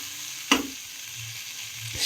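Marinated prawns fry in a pan for a spicy prawn pulao, giving a steady close sizzle with a sharp knock of a utensil against the pan near the start and another toward the end.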